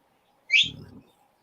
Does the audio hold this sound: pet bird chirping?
yes